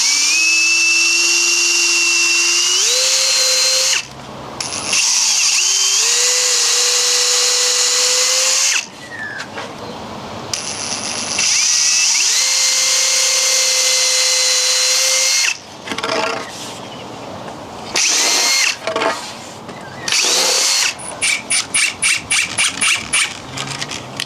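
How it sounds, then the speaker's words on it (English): A power drill bores a hole into a rotted windowsill in several loud, close bursts, the motor whining and rising in pitch as each burst spins up, followed by quick stuttering trigger pulses toward the end. "We're going to drill a hole and have a screw going all the way through"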